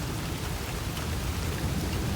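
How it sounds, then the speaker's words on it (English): Heavy rain pours steadily during a lightning storm, a dense, loud, continuous hiss of drops on surfaces with a low rumbling undertone, no voices over it. "Isn't that lightning kind of cool?"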